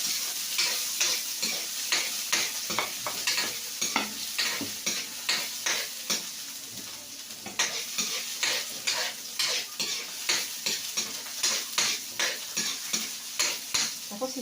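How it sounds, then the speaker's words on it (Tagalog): Onion frying and stirred in a pan with garlic already browned, for a Filipino pork giniling omelette; a steady loud sizzle with a repeated, rhythmic scrape of a spatula against the pan throughout, no voices. "Ayan, kulay brown ng ating bawang. Sunod natin yung ating sibuyas."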